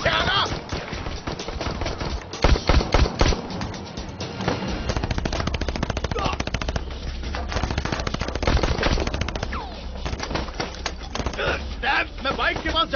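Rapid movie gunfire in a dubbed action film, bursts of automatic shots crackling through a dense, loud mix with music and effects over much of the scene.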